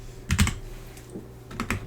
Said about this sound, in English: Why do I keep typing?